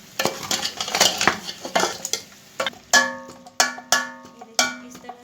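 A spoon stirring thick bong paya curry in a metal pot, with repeated scraping clinks and knocks against the pot, first busy and dense and then a few separate ringing strikes.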